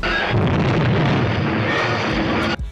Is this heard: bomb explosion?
yes